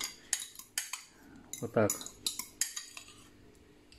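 Metal cutlery scraping and clinking against a bowl while mashing rice filling with mayonnaise for sushi rolls, a series of sharp taps and one longer scrape, close and fairly quiet, with a short spoken remark.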